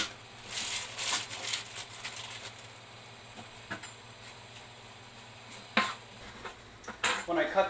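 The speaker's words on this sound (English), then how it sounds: "When I cut the meat, there is quite a bit of some fat." Knife scraping and clinking against a cutting board and dishes while fat is trimmed from pork for homemade sausage, scattered close taps and soft scrapes over a low steady hum, no speech.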